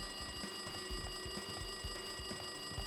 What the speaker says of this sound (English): No, that sounded like an alarm.